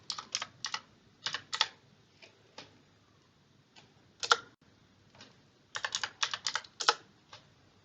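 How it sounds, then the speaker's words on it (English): Someone types a sudo command on a computer keyboard: quiet, crisp key clicks in uneven clusters with short pauses between words, alone and close. "So type in sudo add user to vbox.sf."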